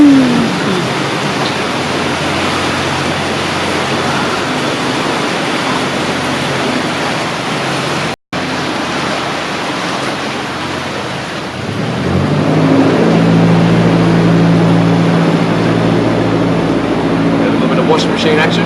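Heavy-duty boat engines churn canal water into a loud, steady roar of rushing, frothing noise. The sound is close and continuous, cuts out for a moment partway through, then swells heavier as a deeper engine rumble rises.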